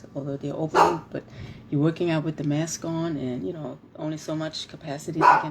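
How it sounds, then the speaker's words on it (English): A pet dog indoors barks repeatedly at something outside, sharp woofs mixed into someone talking steadily about gyms and working out, the barks rising clearly over his voice. "Excuse me, that's my dog."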